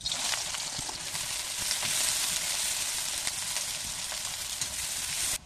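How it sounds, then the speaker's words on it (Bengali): Onions sizzling in hot oil and ghee, a loud, steady, close frying hiss that runs continuously and then cuts off abruptly at the end, with no talking. "এবার তেল গরম হয়ে গেছে, আমি এবারে দিয়ে দেবো, আমি এখানে 2টো মিডিয়াম সাইজের পেঁয়াজ নিয়েছি"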